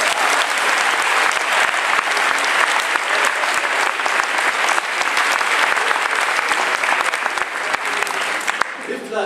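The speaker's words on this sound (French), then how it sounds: "Applaudissements." A large conference audience at the closing session of an international library congress applauds: loud, sustained, dense clapping that continues at an even level for about nine seconds and then cuts off abruptly.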